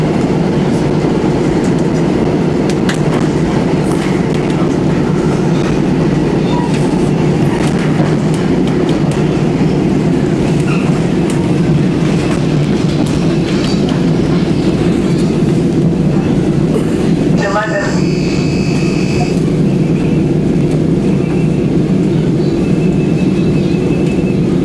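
Steady, loud rumble of a train riding on rails in New Jersey, a continuous roar with faint clickety-clack and a brief screech midway, heard from on board with no talking.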